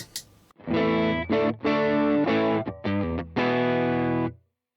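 A distorted electric guitar plays several sustained chords through a Universal Audio Ruby 63 Top Boost amplifier as its speakers are switched, with short pauses between them and a clean cutoff at the end.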